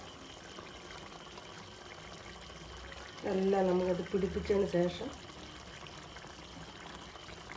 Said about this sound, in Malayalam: ആവശ്യമുള്ള വെള്ളം ഒഴിച്ചു കൊടുക്കുക.